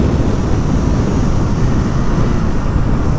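A KTM Duke 200 rides hard along the Sindhuli highway, giving a constant close, loud blast of engine drone and buffeting wind with no break.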